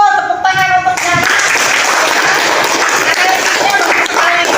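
A classroom of students claps for a classmate during a teaching practice session, a loud, dense burst of applause that starts after a short tonal sound and carries on steadily to the end.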